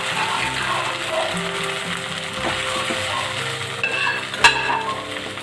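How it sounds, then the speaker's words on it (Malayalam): Cooked beef stirred in hot coconut oil in a pan for dry frying: a steady, close sizzle with scraping of the spoon against the pan and a sharp clink near the end. "ഇനി ഇതിനെ നമുക്ക് നന്നായിട്ട് ഒന്ന് ഇളക്കി ഒരു ഡ്രൈ ഫ്രൈ ചെയ്യാം"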